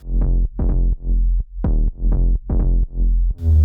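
Heavy electronic bass line built on a sub bass with samples layered on top, pulsing in about seven loud, booming hits with short gaps, ending on a brief noisy burst.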